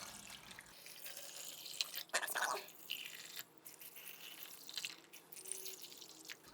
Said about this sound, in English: And then now we just gotta fill them all up with a little bit of water.